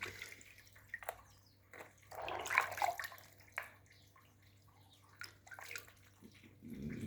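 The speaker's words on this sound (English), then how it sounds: "we are going to wash them, removing unwanted things" Water runs and splashes as items are washed in a basin. Irregular sloshing and dripping rise and fall over several seconds, with a low background hum and no speech.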